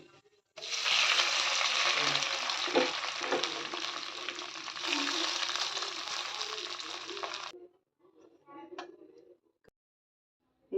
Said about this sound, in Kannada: ಒಗ್ಗರಣೆಗೆ ಅನ್ನ ಹಾಕಿ